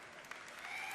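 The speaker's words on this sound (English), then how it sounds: "Yeah, you can applaud for guilds." Audience applause at a BlizzCon Diablo 3 panel, a steady wash of clapping from a large hall crowd, fairly distant and continuous.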